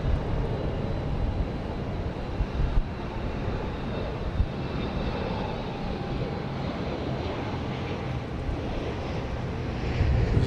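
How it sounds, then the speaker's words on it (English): A Learjet 60 business jet of Dreamline Aviation, arriving from Hayward, California, comes in to land at Dallas Love Field with a constant, loud jet roar that holds steady and swells slightly at the end. "This is a Learjet 60 from Dreamline Aviation coming in from Hayward, California,"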